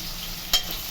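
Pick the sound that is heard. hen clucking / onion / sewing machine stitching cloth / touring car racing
onion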